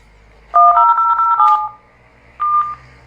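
Touch-tone keypad beeps dial out to an Asterisk PBX: a quick run of several short, clear tones, a pause, then one more tone, close and loud in a quiet room.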